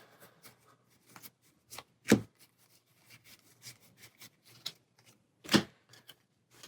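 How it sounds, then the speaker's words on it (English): Aeons End Legacy Nemesis deck cards shuffled by hand on a table, a run of soft riffling flicks and taps with two louder riffle bursts, close and alone. "we'll shuffle these up"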